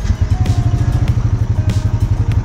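A 2022 Honda Foreman 520 ES EPS ATV engine runs outdoors in cold weather near freezing, with a loud, steady, rhythmic low putter close by and no talking.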